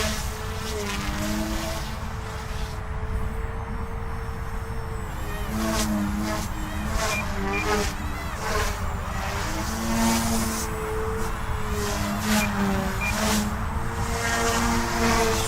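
An OMPHOBBY M2 Explore 3D RC helicopter flies with its rotor and motor whining loudly in shifting pitches, the tone wavering as it passes and circles at close to middle distance, sustained throughout.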